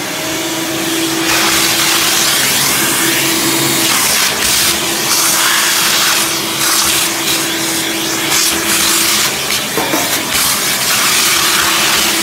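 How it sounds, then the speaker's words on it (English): A vacuum cleaner roars steadily and loudly throughout while cleaning an A/C blower wheel, its pitch and airflow shifting as the nozzle moves, with a brief dip partway through. "this vacuum is very loud, so you know, sorry about that, but they are very powerful"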